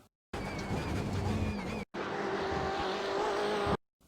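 A BMW M8 GTE race car lapping Road Atlanta in iRacing, its engine droning loud and steady with shifting pitch, cut briefly by a short gap.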